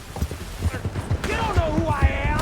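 Horse hooves pound in a gallop during a chase in Red Dead Redemption 2, a quick, heavy clip-clop rhythm running throughout, with a voice shouting over it.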